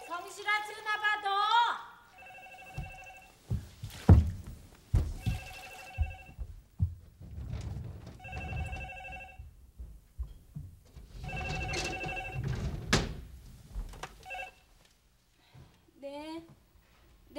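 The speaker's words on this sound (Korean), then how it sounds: "전화 받아." A telephone in a Korean drama household rings in repeated bursts of electronic trilling, loud and close, between which people talk over kitchen noise.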